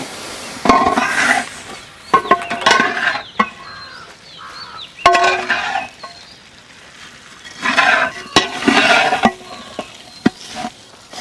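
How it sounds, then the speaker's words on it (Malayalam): Vermicelli fried in ghee in an uruli pot, stirred repeatedly: bursts of sizzling and scraping come and go in an uneven rhythm, close and fairly loud, with short sharp knocks of the spoon against the pot. "സേമിയ നെയ്യിലൊന്ന് നല്ലപോലെ വറുത്തെടുക്കാം."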